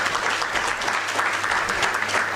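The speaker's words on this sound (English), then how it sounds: "Can we clap hands for her?" An audience claps steadily, a dense patter of applause throughout with no voices.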